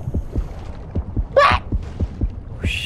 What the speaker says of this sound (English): It's your heartbeat, not breathing.